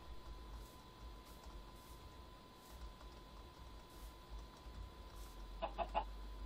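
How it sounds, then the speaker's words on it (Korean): Chickens in the Minecraft game cluck in a short burst of three or four quick calls near the end, after a stretch of faint, steady background hiss. "닭이 있네."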